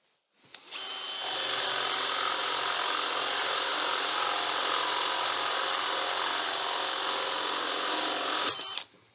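A Forstner bit bores into oak on a drill's second speed, a steady close, loud whining grind that holds evenly for about eight seconds before cutting off abruptly.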